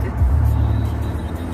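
A car engine hums steadily up close from inside the moving vehicle, a continuous low road and motor drone with no pauses.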